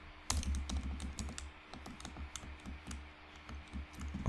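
Rapid, uneven clicking of keys on a computer keyboard as a username is typed in, close and fairly quiet, with no talking.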